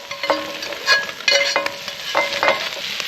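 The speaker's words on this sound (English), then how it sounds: "I'm listening to the sizzle." Food sizzles and crackles while frying outdoors, loud and close, with spatula stirring and scraping clinks breaking through the steady fry at irregular moments.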